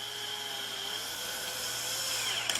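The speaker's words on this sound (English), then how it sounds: "This tightens down and secures the cable inside the box." A high whining power driver spins steadily, tightening cable clamp screws inside a 4-inch octagon splice box, with a constant close-up motor whine and a brief clatter at the end.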